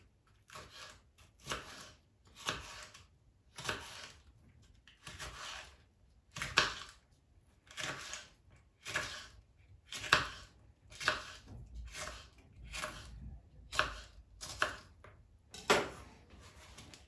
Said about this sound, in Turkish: Kapya biberlerimi doğruyorum.